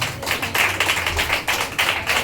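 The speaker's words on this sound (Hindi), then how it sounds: "जोर से ताली मार के प्रभु को धन्यवाद।" A church congregation at a Sunday prayer service claps loudly in thanks to God, a dense burst of close, bright clapping with rhythmic pulses throughout, without any talk.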